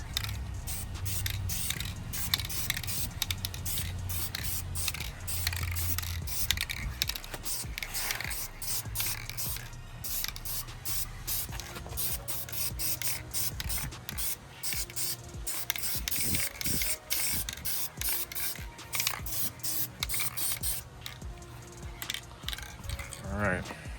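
A can of VHT high temp spray paint hisses in repeated bursts as a coat goes onto a transmission part, with a shaken-can rattle and clinks around it and a steady hum underneath.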